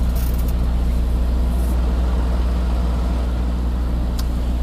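Semi truck idling low and steady while backing its trailer toward dock 13 after a snow-delayed pickup in Ogden, Utah; a constant deep diesel rumble with faint higher clanks, no voices.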